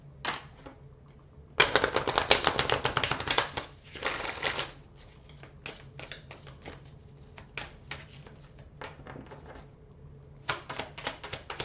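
Oracle cards being shuffled during a tarot reading, a close series of crisp riffling bursts, heavier near the start and lighter later, with soft card taps between them and no voices.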